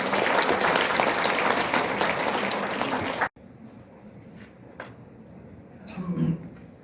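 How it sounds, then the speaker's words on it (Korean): Audience applause at a seminar event, loud and steady for about three seconds before cutting off abruptly, followed by faint room noise and scattered small sounds. "박수로 모시겠습니다."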